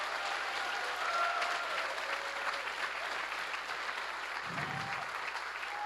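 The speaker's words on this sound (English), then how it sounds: "So a huge round of applause for organizers and challenge" Audience applause at the NorthSec 2025 security conference closing ceremony, a sustained wash of clapping from a large crowd heard somewhat distant and faint, steady for six seconds with a brief low thump near the end.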